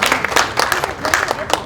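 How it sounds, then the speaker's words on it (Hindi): Clapping from a crowd at a mushaira poetry gathering in Mumbai rises and falls in quick bursts, with a voice talking over the applause. "एक बार जोरदार तालियां हमारी मेहमान शायरा के लिए।"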